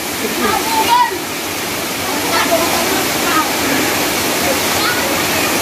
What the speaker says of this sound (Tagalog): Dara Falls!